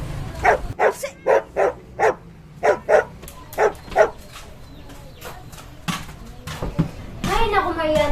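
A dog barks in a rapid run of about ten close, loud barks, followed by a person talking near the end.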